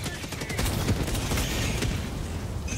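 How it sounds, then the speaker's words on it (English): Mortar fire in Helldivers 2 sounds as a rapid cluster of heavy booms and blasts that merge into a loud, dense barrage over a few seconds. "I'm gonna kill myself with my mortars."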